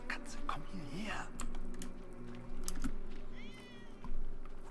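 A cat meows several times in a video game, short plaintive calls heard over game voices talking and low background ambience.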